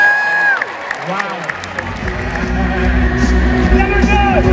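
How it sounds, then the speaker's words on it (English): Arena crowd at a musicals concert in Manchester, with loud cheering and shouts above broad applause, and a rumbling roar building under it. "Give yourself a round of applause in here!"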